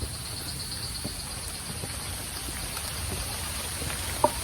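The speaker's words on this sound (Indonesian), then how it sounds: "Hujan." Rain falling on a forest hiking trail, a steady soft hiss of drops with a few scattered patters and one brief sharp tap near the end, with no talk.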